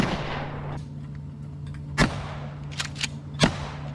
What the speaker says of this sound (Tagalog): Ito yung sample natin, na mayroong babae na pumuputok nito at saka mayroon din lalaki.